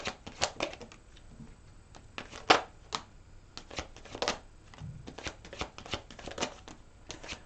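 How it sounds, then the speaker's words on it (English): Tarot cards shuffled by hand in a quick, uneven flurry of crisp riffles and slaps, close up and fairly quiet, with no talking. "Wow, these cards are flying out."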